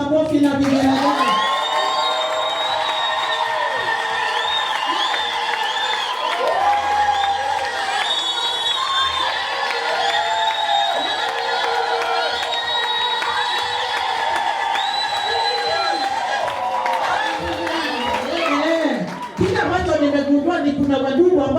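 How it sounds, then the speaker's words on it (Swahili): Church congregation at an ordination service clapping and ululating together, dense high trilling cheers over applause, loud and sustained, then a short pause and a fresh burst. "1, 2, 3 makofi na vigelegele."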